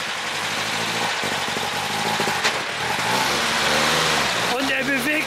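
An old German classic car's engine idles roughly and rises slightly as the car begins to creep forward, with excited voices talking loudly over the engine throughout.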